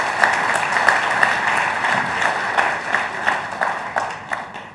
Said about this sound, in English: I think that warrants a round of applause